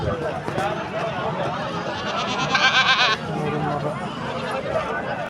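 Goats bleat loudly nearby at a village livestock market, one long cry standing out amid a busy crowd of people talking.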